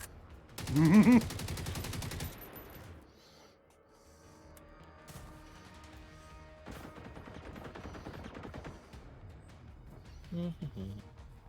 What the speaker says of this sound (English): Ah, shooting!